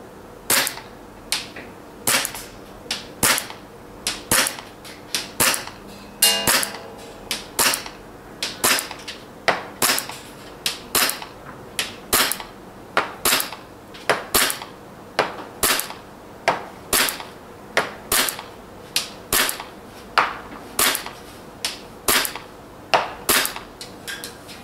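A WE Galaxy G Series airsoft pistol fires BBs at a target in a steady run of sharp, snappy shots, roughly one per second, each a crisp crack with a faint impact tail, with no talking.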